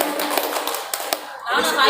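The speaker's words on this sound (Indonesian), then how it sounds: "Kasih tepuk tangan." A small audience at a school gathering gives brief scattered hand claps, a few sharp taps first and then a louder burst near the end, with a voice speaking over the start.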